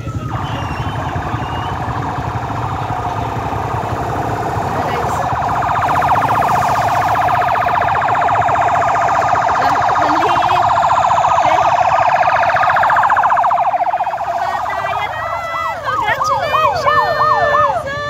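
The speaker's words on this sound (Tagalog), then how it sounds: "May wangwang na. Malapit na dito." Escort vehicle siren approaching the finish line of a fun run at Sampalok Lake, wailing steadily and growing louder over crowd noise and talk, with rising and falling sweeps clear near the end.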